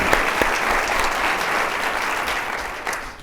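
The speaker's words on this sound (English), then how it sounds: "I'd like to give them a round of applause as we get started here on their work." A conference audience gives a round of applause, a dense, even patter of many hands clapping at moderate volume with a few sharper claps standing out.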